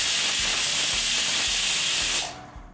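Pressure cooker releasing a loud, steady hiss of steam while ghee rice cooks, continuous and close for over two seconds before cutting off abruptly.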